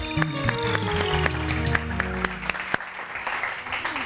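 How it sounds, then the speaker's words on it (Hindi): A studio audience on a morning TV talk show claps for a guest, producing a burst of bright, close clapping that thins out and fades after a couple of seconds. "सबसे पहले तो जी जोरदार तालियां डॉक्टर उम्मे राहील के लिए।"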